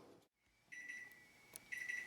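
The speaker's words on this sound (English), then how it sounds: "that beeping sounds means that it's been 25 minutes" Oven timer on a kitchen oven set to 350 degrees for baking brownies, giving a thin steady electronic tone that rings in two bursts, faint against quiet room noise.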